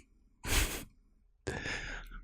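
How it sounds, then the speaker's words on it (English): A person takes two deep, audible breaths as a breathing exercise before singing, each a loud, breathy inhale or sigh lasting about half a second, separated by near silence and heard up close. "There's some breathing exercise."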